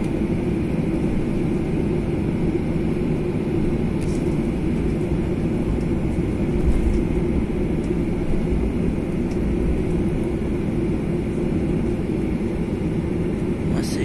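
Steady loud engine rumble from inside a Malaysia Airlines airplane taxiing to the runway at Kuala Lumpur International Airport, continuous with a few faint clicks and thumps.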